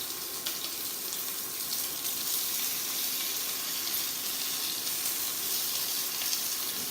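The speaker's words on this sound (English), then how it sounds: "That's the sizzle I was looking for." Steady, dense crackling hiss of Cajun chicken frying in a pan, continuous and close, with no voices.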